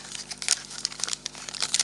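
Sealed tea packaging being torn open by hand, a rapid series of crisp crinkles and rips of paper and foil, close and fairly quiet, with no voices.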